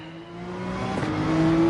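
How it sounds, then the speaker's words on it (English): A race car engine in the Gran Turismo 7 racing game revs up at the race start, a steady rising whine that climbs in pitch and grows louder over under two seconds, close and alone. "So rev out your motor and let go of the pedal."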